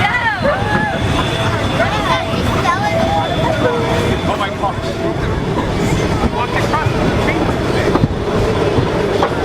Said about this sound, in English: That is a Shea type engine, shopped out of Lima Locomotive Works back in 1911.